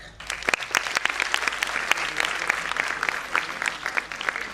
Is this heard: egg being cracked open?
no